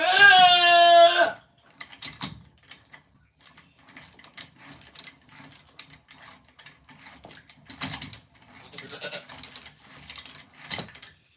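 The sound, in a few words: goats bleating during hoof trimming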